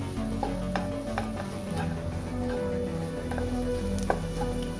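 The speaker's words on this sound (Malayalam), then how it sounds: "ഇനി ഇത് നന്നായിട്ടൊന്ന് ഇളക്കി കൊടുക്കാം" Chilli powder being stirred into a vegetable salna masala in a pan, soft frying sizzle under a low steady hum, with light spoon taps and scrapes scattered through.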